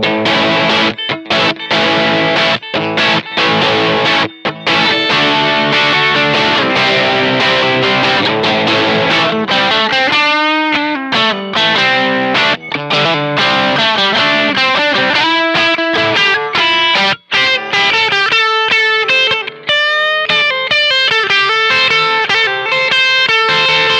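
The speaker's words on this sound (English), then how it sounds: "How about the Boss Turbo Distortion?" Squier Classic Vibe '60s Jaguar electric guitar played through a Boss Turbo Distortion pedal, loud saturated chords and sustained single notes with continuous playing throughout and no talking.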